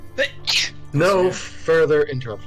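A single sharp sneeze bursts out near the start, close and fairly loud, followed right away by people talking.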